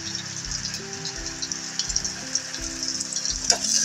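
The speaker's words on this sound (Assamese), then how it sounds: "পিঁয়াজখিনি অকণমান বাদামী হোৱালৈকে ভাজিম।" Onions frying in a pan for a homemade Assamese dish, a bright continuous sizzle and crackle with light stirring, close and fairly loud, with no talking.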